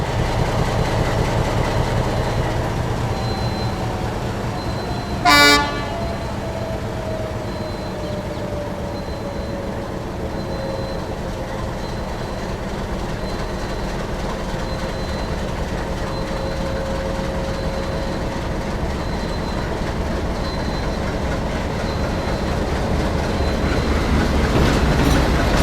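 A diesel meter gauge passenger train runs on rails through the Gir forest in a steady, loud rumble and clatter that continues throughout, with a sharp knock partway through.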